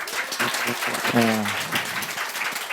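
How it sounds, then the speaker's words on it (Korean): A church congregation applauds a guest speaker during a special testimony service, with steady crowd clapping throughout and a voice speaking over it. "박수 한번 쳐주세요"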